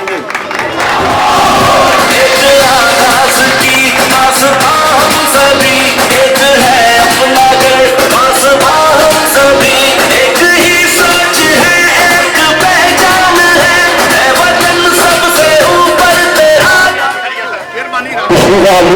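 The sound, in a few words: crowd applauding at Independence Day event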